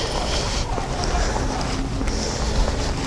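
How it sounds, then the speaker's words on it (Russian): Soft wind buffets a foam-covered action camera microphone in a constant low rumble, with gentle gusts and faint town square background throughout. "Прицепил на микрофон поролон от ветра, ветер есть небольшой"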